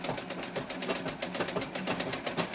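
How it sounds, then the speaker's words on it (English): A sewing machine runs a tight, narrow zigzag stitch around a fabric edge, its needle pulsing in a fast, even mechanical rhythm, close and continuous with no talk. "I'm going to throw a zigzag stitch all the way around this edge."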